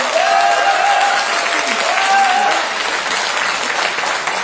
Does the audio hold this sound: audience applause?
yes